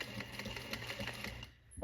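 A sewing machine stitches over the back pocket of a pair of jeans, a steady close mechanical buzz that runs for most of the moment, then briefly stops and starts again.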